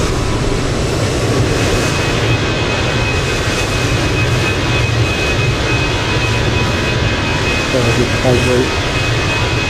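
Steady loud jet roar from inside a TAP airliner cockpit climbing after takeoff with gear up, a constant engine drone with a faint whine, and pilots speaking briefly over it.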